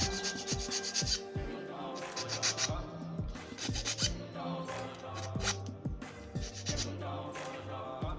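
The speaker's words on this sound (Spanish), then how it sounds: "para la cuerda, vamos a limar en estas partes para que no se raspe." Filing a wooden arrow nock at the string groove, heard as a series of short, close rasping strokes in an irregular rhythm, each a brief scrape against the wood.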